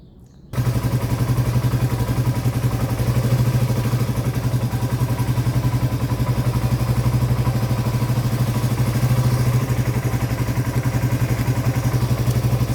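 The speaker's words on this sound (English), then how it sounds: "that's the first time it's been revving really good for a long time" A 1982 Yamaha XT200 single-cylinder motorcycle starts up and runs with a loud, steady rapid thumping engine note and mild rev swells, close by.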